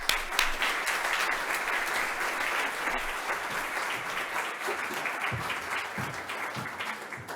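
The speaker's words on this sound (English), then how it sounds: "please give a warm hand of applause to the Deputy Prime Minister for European and Euro-Atlantic integration." Sustained audience applause rises for a Deputy Prime Minister at a conference on the Copenhagen Criteria, a dense, steady wash of many hands clapping at close range that carries on for several seconds with no talk over it.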